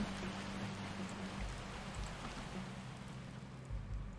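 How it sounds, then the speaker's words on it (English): Steady rain in the video game Bear and Breakfast, a constant broadband hiss of falling drops with a low humming drone beneath, continuous and even throughout with no voices. "Everything felt dark and silent again, except for the rain."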